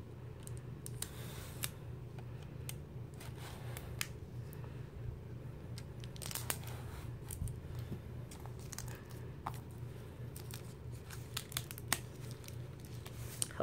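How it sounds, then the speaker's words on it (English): Quiet, scattered snips and plastic crinkles over a steady low hum, with irregular clicks as packaging is cut open up close. "I'm back with some scissors, so let's get it open."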